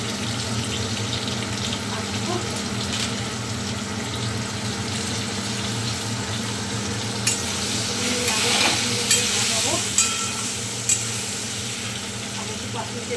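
Dried red chillies and potato pieces fry in hot oil in a pan, giving a steady, fairly loud sizzle with occasional scraping stirs and small clinks toward the end.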